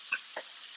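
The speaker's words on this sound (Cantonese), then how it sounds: "係啦，爆香佢，" Aromatics stir-fried in a pan for a Hong Kong-style oxtail borscht, heard as two short, close scraping stirs over a soft, continuous sizzle.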